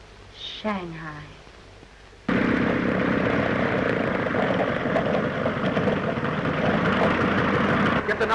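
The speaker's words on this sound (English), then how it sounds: "Get the number of that plane." A steady, loud propeller airplane engine drone starts abruptly and continues throughout, flying close by, after a brief stretch of quieter sound.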